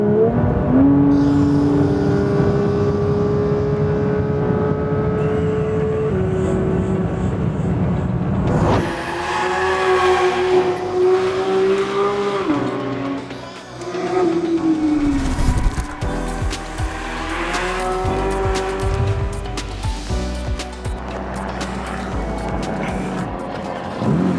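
A Porsche 911 GT3 pulls hard on the Autobahn, its engine rising in pitch through the gears. The roar is steady and loud, with brief drops at each gearshift before it climbs again.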